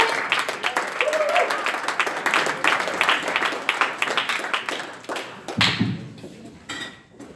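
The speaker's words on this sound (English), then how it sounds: "Big round of applause for your pitcher." An audience at a startup weekend fintech closing ceremony in Geneva claps in a steady burst of applause that gradually thins out, with some talk near the end.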